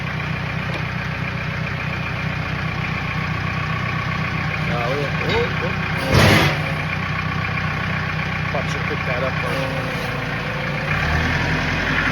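A New Holland 250TL loader's engine idles steadily with a low, even rumble and a brief louder burst midway, while someone speaks nearby.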